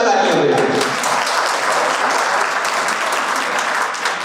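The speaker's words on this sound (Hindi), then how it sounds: "उनके लिए जोरदार तालियां बजाएं" An audience at an annual function of a chemistry coaching institute applauds loudly, a dense and steady burst of clapping that holds for several seconds without a break.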